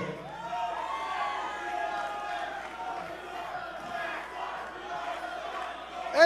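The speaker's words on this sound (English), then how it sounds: "And this crowd fucking loves it!" A wrestling crowd roars and yells in a continuous, boisterous din around the ring. Shouts rise and fall throughout, with a sharp loud burst at the very end.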